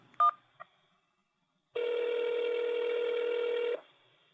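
Telephone keypad tones on an automated phone menu: two short key beeps, then a pause, then a long steady tone of about two seconds. The tones are clear and there is no talking.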